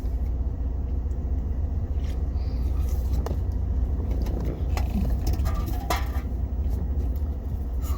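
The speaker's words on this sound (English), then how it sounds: "Traffic's crazy." Busy road traffic is heard from inside a car as a continuous low rumble, with faint clicks and rattles on top and no voices.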